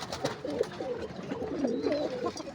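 Pigeons coo softly and repeatedly in a loft, with several birds calling in overlapping low murmurs close by, among them pairs nesting on eggs in clay pots.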